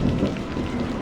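A steady hiss of rain effect in a horror story, filling the short moment evenly and fairly loud with a soft low rumble beneath, no voices.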